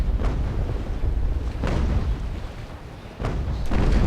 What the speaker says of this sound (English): he should get a pretty good shot on me broadside